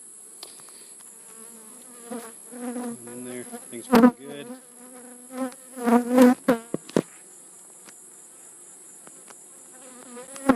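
Honey bees buzz and drone close by at an open hive in uneven bursts, some passing loudly near, while a person speaks briefly over them.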